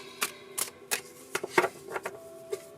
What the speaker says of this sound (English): This is what is called a hand over shuffle